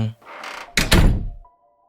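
A door swings shut with a heavy thunk, followed by a second louder slam-like knock as the latch is locked, then a faint lingering tone in near silence.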